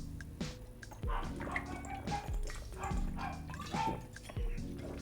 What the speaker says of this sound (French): Mon chien, c'est que aboyer tout le temps, en permanence